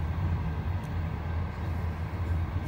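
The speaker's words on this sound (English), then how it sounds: "to this train that's blocking my view." A huge train rumbles past nearby on a journey into China from the Mongolian plains, giving a steady low roar with no let-up and no voices.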